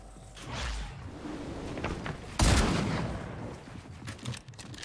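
Fortnite shotgun fire in a game match, one sharp loud blast midway among mechanical clicks and rustling handling sounds, with quieter impacts afterward.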